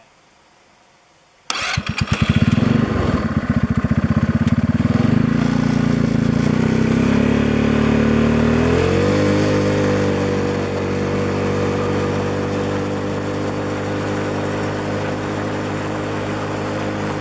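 A go-kart engine being tuned with an air-fuel gauge fires up abruptly and runs loud and steady at high revs, its pitch shifting noticeably partway through and then holding a slightly different steady drone.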